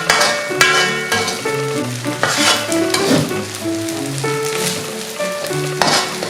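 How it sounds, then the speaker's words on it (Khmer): Shrimp fried rice being stir-fried in a hot pan, with loud continuous sizzling and repeated scraping and tossing strokes of a utensil, close up with no voices. "ចាបងប្អូននេះបាយចាយើងឆាវារៀងស្ងួតទឹកចឹងណាបងប្អូនចា"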